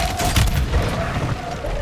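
Several heavy mortar airstrike explosions in Call of Duty Warzone Resurgence, loud booming blasts that roll into one another in a dense rumbling barrage, with no clear talk over them.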